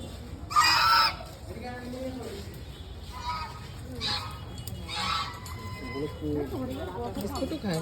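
Domestic geese kept alongside rabbits honk and cackle in loud bursts at an open courtyard, with several calls spaced across the stretch and quieter clucking fowl underneath.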